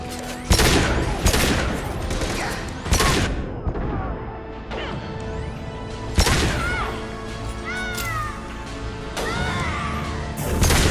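Weapons firing in the sci-fi shooter Mass Effect 2: loud, repeated sharp shots and crashing impacts through a sustained firefight, with a voice briefly heard among the blasts.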